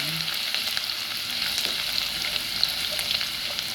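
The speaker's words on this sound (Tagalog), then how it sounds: "So una natin igigisa is yung luya." Ginger sautéing in plenty of oil for bopis, a steady dense sizzle and crackle that stays loud and close throughout with no talking.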